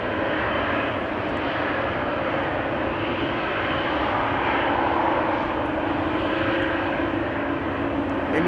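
A Transavia airliner departing for Thessaloniki gives off a steady, broad engine roar that holds at an even level for several seconds, moderately distant and with no voices over it.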